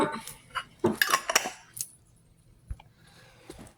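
A spoon clinks and scrapes against a dish while strawberry jam is mixed, giving a few quick sharp metallic taps in bursts and then a quieter pause with one or two softer knocks.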